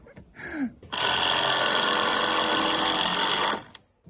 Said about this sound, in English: Just gonna go ahead and put a few screws in the top plate for now